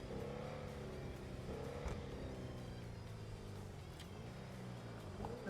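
Car engines rev and drone steadily during a video game police chase, with layered low engine tones holding fairly loud throughout and shifting pitch as the vehicles accelerate.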